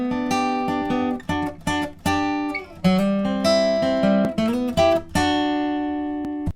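Acoustic guitar plays the opening line of a riff, a run of plucked single notes and two-string pairs ringing out clearly with short pauses between phrases, solo and close.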